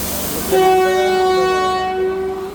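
A train's horn blares loudly and steadily for about two seconds over the rumble of rail traffic, close at hand, inside Sealdah railway station.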